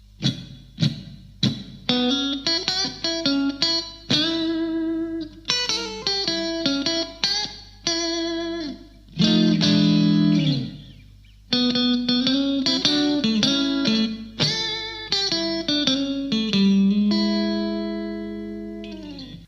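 An electric guitar plays a 12-bar blues solo, with bent, sustained notes and quick phrases separated by short pauses, bright and slightly overdriven, nothing accompanying it.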